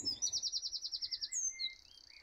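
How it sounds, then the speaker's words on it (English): Birds chirp nearby, one a rapid string of about a dozen bright, evenly spaced tweets followed by a few shorter calls, clear against a quiet background with no talking. "And the birds agree."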